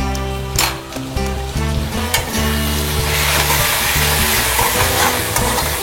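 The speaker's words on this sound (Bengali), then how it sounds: "এটা লাল লাল করে আমি ভাজবো" Spices with turmeric and black salt fry loudly in a hot pan, a dense steady sizzle with a few sharp stirring clatters early on and the hiss swelling toward the end.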